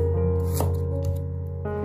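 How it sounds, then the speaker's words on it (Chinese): A knife cuts peeled old ginger into slices on a board, giving a couple of crisp chops over a steady background hum. "去了皮的老姜也把它改刀切成姜片"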